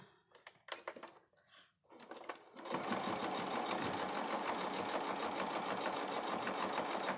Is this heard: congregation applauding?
no